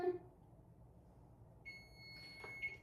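A kitchen timer beeps after a countdown while baking a pineapple upside-down cake: a brief tone, a quiet pause, then a few sharp electronic beeps close by in a quiet room.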